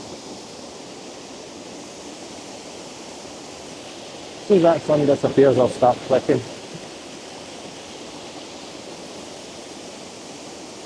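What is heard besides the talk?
waterfall in Alva Glen, Scotland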